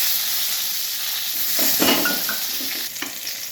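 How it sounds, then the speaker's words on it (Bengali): Raw green mangoes fry in hot oil with mustard seeds, producing a dense, continuous sizzle with a few stirring clinks and scrapes against the pan toward the end. "এবার কাঁচা আমগুলো দিয়ে একটু ভাজা ভাজা করে"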